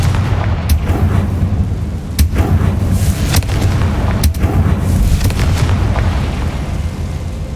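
Repeated fiery blasts from a Confringo spell in the Hogwarts Legacy video game, loud sharp booms and bursts over a dense rumbling battle bed, with no talking.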